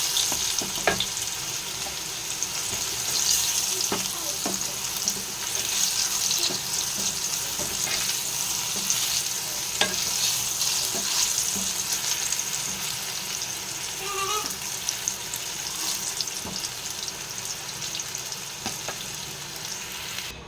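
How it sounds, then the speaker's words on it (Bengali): Pumpkin and pointed gourd fry in oil, a steady, moderate hiss of sizzling that carries on for a long stretch with occasional light clinks of a utensil and no speech. "কুমড়োটাও ভালো করে লাল লাল করে ফ্রাই করে নেব।"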